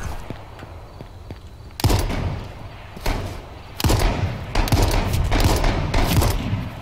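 Gunfire sounds in a video game: rapid, loud bursts of overlapping shots and thuds come in waves over a steady low background.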